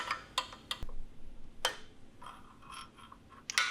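Ratchet wrench working loose the connecting rod bolts on a go-kart engine, a few sharp metallic clicks and clanks at close range with pauses between bursts, no talking.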